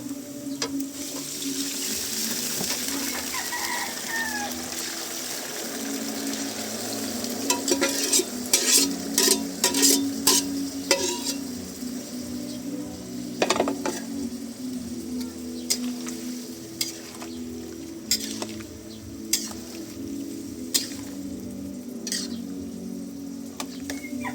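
Boiled ingredients being stirred into a sizzling pan of aromatic chili-spiced food, with a steady hiss of frying, watery bubbling, and a run of sharp metallic scraping clinks of a utensil in the middle, with no talking.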